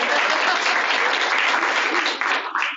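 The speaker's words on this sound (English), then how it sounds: "Everyone applaud." A college panel audience applauds in a dense, even burst of clapping that holds steady and then tapers off near the end, with no talk over it.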